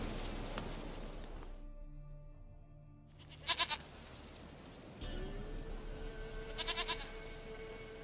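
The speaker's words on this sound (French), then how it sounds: "Une chèvre à moi, gentille, douce biquette." A goat bleats in The Witcher 3, short wavering calls heard twice, once alone and once over a sustained musical hum, with quiet ambient background between.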